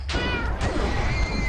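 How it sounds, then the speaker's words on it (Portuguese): Cat meowing, a close, loud drawn-out meow in two swells over a steady background hum. "Deu até o gato miando."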